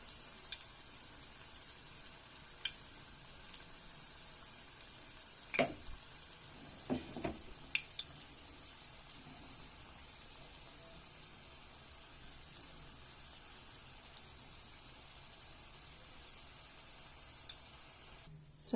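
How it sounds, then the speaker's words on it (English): Mustard seeds crackle and sizzle faintly in hot oil in a pan for tempering, a soft steady hiss broken by a few sharp pops clustered together, with no talking. "The oil is hot, so I'm going to add a little mustard seeds."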